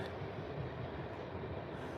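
A train rolls past on seamless rail along a quiet rural line, giving a steady, smooth low rumble with no clickety-clack of rail joints, moderately loud and continuous throughout.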